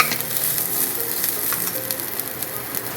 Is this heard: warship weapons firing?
no